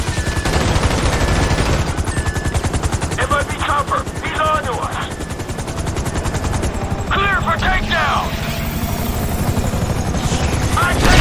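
Helicopter rotor thump drones steadily throughout a GTA 5 shootout while bursts of automatic gunfire crackle repeatedly, with voices calling out over the din.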